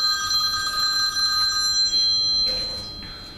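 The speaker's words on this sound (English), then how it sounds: "Oh, there goes my phone again." A mobile phone rings with a repeating electronic trill, a few bursts of a bright tonal ringtone sounding fairly close in an indoor room while beeswax is being cleaned for soap making.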